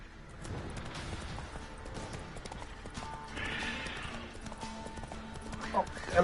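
Geralt's horse clip-clops along in The Witcher 3: Wild Hunt, steady rhythmic hoofbeats with a whinny, heard over game ambience while someone talks over it.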